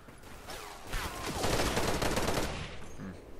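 Gunfire in the video game Special Forces 2, a dense burst of rapid shots building to a loud sustained fusillade that fades off, with no clear talk over it.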